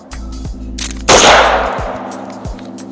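A single sharp rifle shot cracks at an outdoor shooting range, loud and close, followed by a brief decaying echo, with faint clicks before it.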